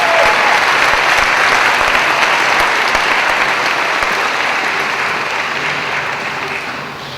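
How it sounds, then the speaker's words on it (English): Loud, sustained applause from an audience at a high school senior awards ceremony, dense clapping that fades slightly toward the end. "Let's give them a round of applause."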